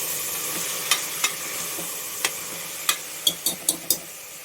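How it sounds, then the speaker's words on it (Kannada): Cut pieces of elephant foot yam frying in a pan, a soft continuous sizzle punctuated by a series of sharp spatula clicks that come closer together toward the end. "ಈ ಥರ ಪೀಸಾಗಿ ಕಟ್ಕೊಂಡ್ಬಂದಿದ್ದೀನಿ. ಇದು ಒಂಚೂರು ಫ್ರೈ ಆಗಲಿ."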